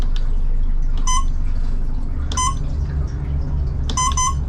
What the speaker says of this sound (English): And it'll double beep when you get to the lowest setting.